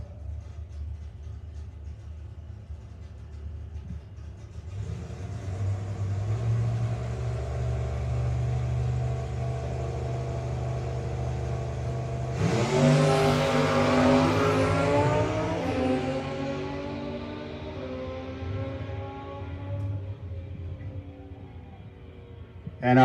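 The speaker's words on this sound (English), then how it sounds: "So got the bike fired back up." A no-box 660 race bike engine runs after a restart at a drag strip. It holds a steady idle, then revs sharply upward into a loud whining rise before easing back down, heard alone without talk.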